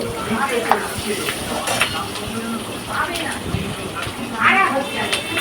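Oil sizzles and crackles steadily as fish fries in a pan with slit green chillies, with occasional stirring and clinks of utensils.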